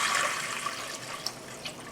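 Liquid pours steadily into a stand mixer bowl while no-knead whole wheat bread is being made, a continuous splashing, trickling wash with a few small clinks or drips near the end.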